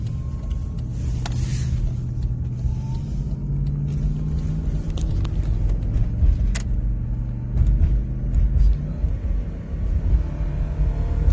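A 2002 Ford Explorer with a 5R55S transmission that won't shift drones along in a low, steady engine rumble with faint swells, heard from inside on a cold, snowy Michigan drive, no one talking.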